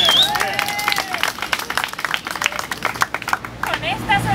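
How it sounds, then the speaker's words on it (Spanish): Street theatre audience in Colombia applauding at a mock award ceremony, a loose burst of clapping mixed with crowd voices and whistles that stays fairly steady before fading. "¡Un aplauso!"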